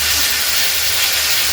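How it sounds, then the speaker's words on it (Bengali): Ground turmeric, cumin, coriander and garam masala fry in a pan, giving a steady, close, bright hiss with no break and no talking. "এইবার ভালো করে মশলাটা কষে নেব।"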